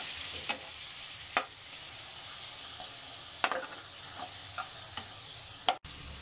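Mustard and prawn masala being stirred and cooked down in oil for an arum lobe dish, a quiet soft sizzle with several sharp spatula scrapes and taps spaced apart.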